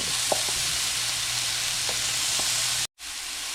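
Pork bites sear in a smoking hot pan, a dense steady sizzle with a few faint clinks, cut by a brief silence before the hiss resumes, close and with no talking.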